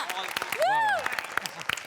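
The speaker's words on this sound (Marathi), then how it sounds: "त्याकरता एकदा टाळ्या" An audience at a friends' birthday music show gives scattered, close handclaps. Voices call out and exclaim loudly over the clapping.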